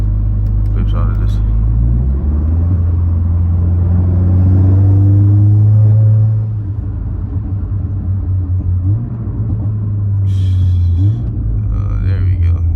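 A Cadillac CTS with a turbo inlet drives along, its engine a steady loud low drone that swells under acceleration, dips as it eases off, then climbs again, with brief background noises near the end.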